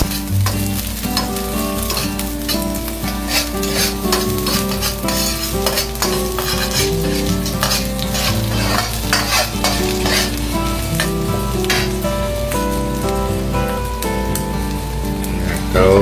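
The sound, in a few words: garlic and shallots frying and being stirred in a pan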